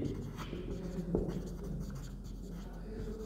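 Marker or chalk scratches briefly and quietly on a board during a trigonometry lesson for Class 10, with soft strokes over low background hum.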